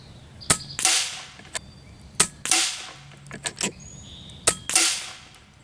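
Three shots from an Airmaks Arms Katran Long airgun at a long outdoor range, each a sharp, loud crack followed by a short, whooshing tail, spaced roughly two seconds apart, with faint smaller clicks between them and no voices.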